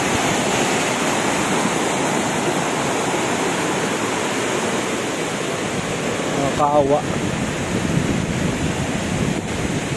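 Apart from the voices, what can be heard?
strong typhoon wind and rushing floodwater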